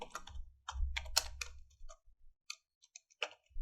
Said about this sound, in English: Now just type this PC.